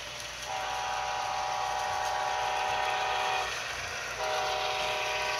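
A Walthers GE ES44 model locomotive runs with a steady electric hum and rumble, and a sustained horn-like tone sounds twice, loud and close.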